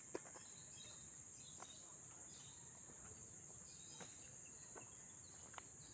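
Constant high, thin cricket trill fills the quiet night air, with a few faint, brief bird chirps scattered through it.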